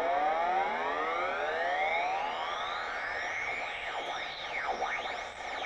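A cheap Arduino-based synthesizer in monophonic mode with a detune glitch gives off glassy, warbling tones that sweep upward in overlapping glides, then dip and rise in repeated swoops, steady and fairly close, with no voices.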